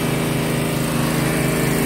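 A TGR-5000 generator set, rated 3000 watts maximum and 2500 watts standard, runs steadily with a loud, constant engine drone and buzzing hum, close up and uninterrupted, with no voices.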